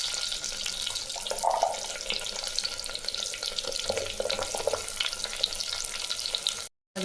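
Shallots and mustard seeds fry in hot oil, giving a dense crackling sizzle with bursts of popping and spatter, loud and close, which cuts off briefly near the end.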